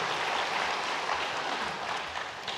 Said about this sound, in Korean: 우리 박수로 하나님 앞에 영광 올려드리겠습니다